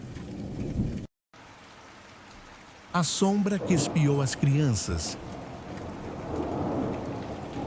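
Steady rain falls with rumbling thunder, loud and close, continuing under a narrating voice for most of the stretch after a brief dropout.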